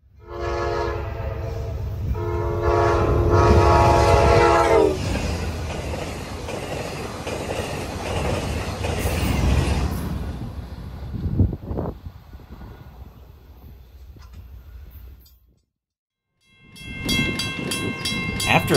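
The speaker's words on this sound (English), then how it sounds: "here comes Amtrak P683 with Amtrak's Midnight Blue Anniversary Unit." Amtrak passenger train P683, led by the Midnight Blue anniversary locomotive, passes in New England. Loud horn blasts come first, then the heavy rumble and clatter of the passing train, which cuts out briefly near the end.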